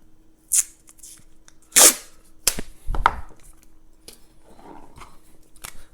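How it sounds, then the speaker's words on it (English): Masking tape torn off its roll for a label on a bottle of homemade kumquat syrup: a few sharp, close rips and snaps spaced over several seconds, each followed by quieter crinkling and handling noise, with no talking. "So we've got, masking tape."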